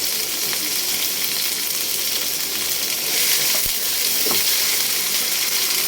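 Blended garlic paste hitting hot oil in a pan with onion and tomato, a loud continuous sizzle with a few sharp clinks of a utensil against the pan midway.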